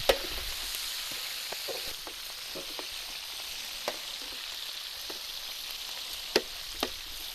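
Longaniza sausage and chorizo fry in a paella pan, giving a steady, close sizzle with occasional sharp pops and light crackles and no talk.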